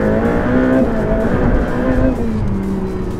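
A Ferrari F8 sports car engine roars loudly and steadily, its pitch climbing and shifting as it accelerates through the gears, close and continuous throughout.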